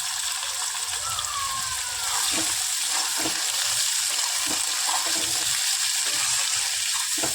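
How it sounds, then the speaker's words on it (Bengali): Cut potato, onion and green chilli go into hot oil with fried panch phoron, producing a loud, steady hissing sizzle with occasional stirring clatter, close by and continuing without talk. "এতে আমি কেটে রাখা আলু, পেঁয়াজ, কাঁচা লঙ্কা আমি সব একবারে দিয়ে দেবো।"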